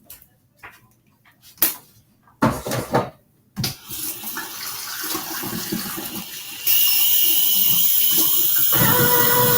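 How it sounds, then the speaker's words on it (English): Hands are washed at a sink during a head-to-toe medical exam: scattered thumps and small splashes come first, then water from a tap runs steadily and grows louder, close by with no talk. "I'm going to wash my hands."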